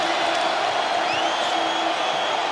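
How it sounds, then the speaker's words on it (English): A basketball arena crowd at an Auburn vs Alabama game roars to its feet late in the contest, a broad sustained cheer filling the hall, steady and loud under a commentator's voice. "Crowd back on its feet with 90 seconds to go"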